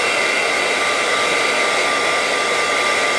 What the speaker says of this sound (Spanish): Voy a prender el secador de pelo y le vamos a tirar un toquecín de calor.